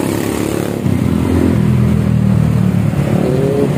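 A Honda Vario scooter with a modified, opened-up exhaust runs loud and close, its engine note rising into a sustained rev with a rough, droning rasp.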